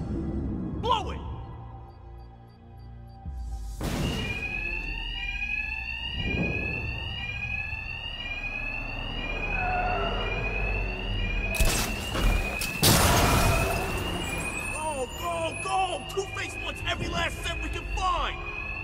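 A continuous fire alarm rings through a Batman: Arkham Knight game scene, its rapid repeating tones steady and prominent from start to finish, joined by bangs, impacts and bursts of game noise partway through, with voices speaking over it.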